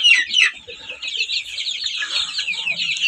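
A broody Kuchin hen clucks in a run of close, overlapping calls, fairly loud and continuous.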